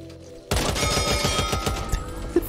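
An RPK machine gun in Back 4 Blood opens up with a loud, close, sustained burst of rapid automatic fire, starting abruptly after a quiet moment and rattling on steadily.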